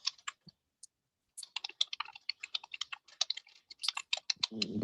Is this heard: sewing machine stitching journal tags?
no